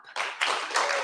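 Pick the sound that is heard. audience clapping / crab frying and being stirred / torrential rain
audience clapping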